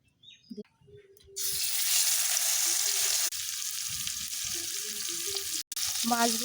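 Fish coated with ground spices, salt and ginger-garlic paste goes into hot oil in a karahi and sizzles loudly and continuously after a brief quiet start with faint clinks, with one short break in the fry.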